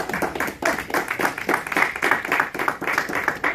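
A church congregation at a December vigil service claps together, a fairly close, ragged run of hand claps with an irregular rhythm that rises and falls in strength, and no one speaking over it.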